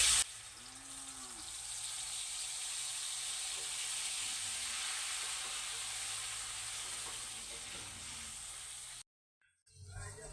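Ground tomato paste sizzles and fries steadily in hot oil with tempered spices, a continuous broadband hiss at close range that runs for most of the clip before cutting out near the end.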